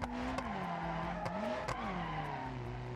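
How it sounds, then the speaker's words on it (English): An Ibishu 200BX car drifting in BeamNG.drive, its engine droning at a steady pitch that sags and rises while the tires squeal, with several sharp clicks along the way. "Trying to drift it, but it's just not got the power."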